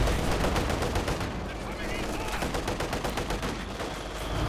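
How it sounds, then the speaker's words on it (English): Machine gun fire in a Company of Heroes 2 battle, with LMG Grenadiers in play: a dense, steady stream of rapid bursts running the whole time alongside other game battle noise. "Jove's been kind of using his machine gun more on the flank"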